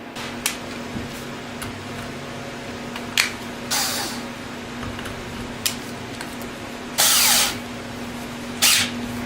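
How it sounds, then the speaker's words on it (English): A power drill mounted in a Milescraft drill stand hums steadily while boring through wood, with several short, louder bursts of grinding as the bit bites in. "Get the drill chucked up, and we'll drill this out and see how it goes."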